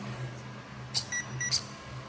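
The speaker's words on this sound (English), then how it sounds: "It gives a little beep with a little blue light" Two quick, high electronic beeps from a CEN F450 remote-control truck's transmitter sound close by over a low steady hum.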